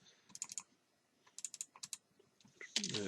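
Quick bursts of keyboard shortcut presses on a computer keyboard, sharp near clicks in short clusters separated by pauses, with a louder clatter at the end.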